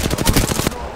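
A video game gun fires in a rapid burst of about eight close, loud shots within a second. Game sounds play underneath.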